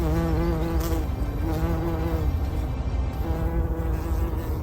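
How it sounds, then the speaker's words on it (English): A steady buzzing hum of bees close by, continuous and fairly loud with slight wavering in pitch. "Bees hum."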